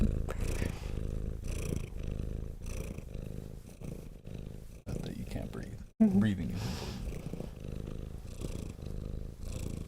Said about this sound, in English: You can hear the purr, man.